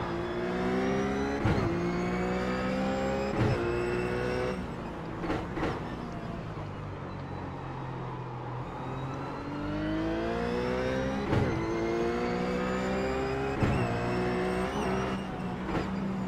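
A RUF race car in iRacing at Sonoma's Infineon Raceway, its engine note climbing steadily through the gears, dropping briefly on upshifts and easing off, then accelerating again. It sounds close and continuous, with no talking.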